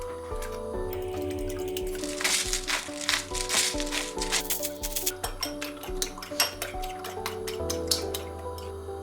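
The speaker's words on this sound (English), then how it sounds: "Add 2 eggs to bowl and mix" Two eggs are mixed with salt in a bowl: a close, quick run of wet clinking and tapping strokes against the bowl that grows busier partway through and then continues in uneven bursts, with no voices.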